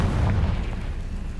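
Confringo fire-blast spell detonating in Hogwarts Legacy, a heavy booming explosion with a deep rumbling body that sustains loudly through the whole moment, with no talk over it.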